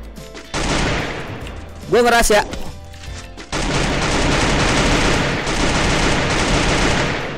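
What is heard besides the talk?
gunfire in a video game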